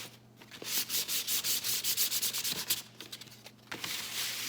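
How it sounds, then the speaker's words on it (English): Sandpaper of 100 grit rubbed by hand along the painted edges of a board, a series of quick, close scraping strokes in a steady rhythm with a brief pause near the end and no talking. "You're going to take a 100 grit sandpaper"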